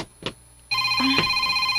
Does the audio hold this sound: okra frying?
no